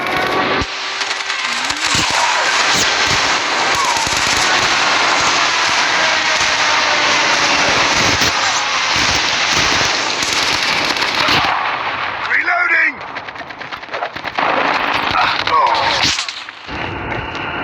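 Friendly airstrike in a shooter video game: a long, dense run of loud explosions and crackling blasts layered with gunfire, with a brief drop partway and shouted voices over the din.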